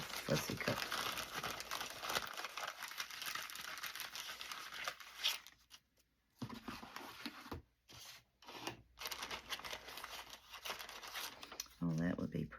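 Scissors fussy cut paper for a journal, giving close crinkling and rustling paper sounds broken by short snips and pauses, with brief handling noise near the end.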